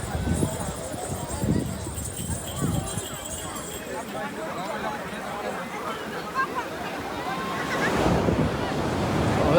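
Horse hooves clip-clop on the sand of Somnath beach, set against rolling surf and gusting wind on the microphone, with people chatting nearby over the whole scene.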